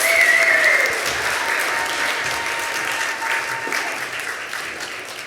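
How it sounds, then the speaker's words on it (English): Applause from the audience at a youth entrepreneurship fast pitch competition, a continuous wash of many hands clapping at steady volume, easing slightly toward the end, with a faint whistle near the start. "Let's give them another round of applause."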